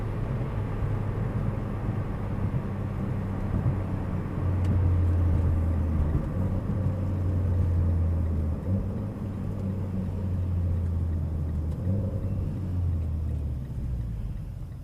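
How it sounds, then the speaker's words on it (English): A Mitsubishi Evo X MR engine idles steadily while warming up, a low, even rumble, rising slightly in the middle, with no talking. "And warming the car up."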